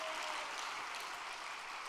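A church congregation applauds in a hall, a dense continuous patter of many hands clapping at moderate distance.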